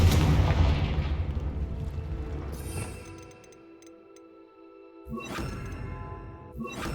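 Confringo spell blasts in the Hogwarts Legacy game hit as booming fiery explosions: a heavy burst at the start, a sharper crack partway through, and another loud blast near the end, each trailing into rumble.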